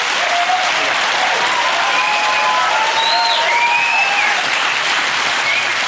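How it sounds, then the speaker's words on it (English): Steady, dense audience applause fills the room at a comedy panel show, loud and continuous throughout, with a few faint whoops or whistles rising over the clapping. "a very big round of applause for our old person"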